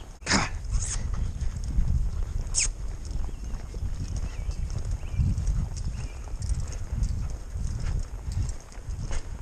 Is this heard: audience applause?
no